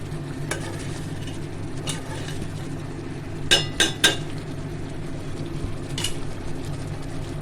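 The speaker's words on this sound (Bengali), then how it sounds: "আমি মশলা ভালো করে কষিয়ে নেবো" Ground spices — salt, turmeric, cumin, coriander and a little red chilli — fry in a pan for a home-style fish curry, a steady low sizzle broken by a few sharp scrapes and clinks of a spoon against the pot.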